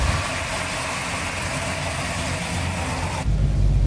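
A V8 muscle car, either a 1967 Camaro or a 1970 Dodge Super Bee, idles with a steady rumble and broad roar at close range, then drops abruptly into a deeper, heavier low-end throb near the end.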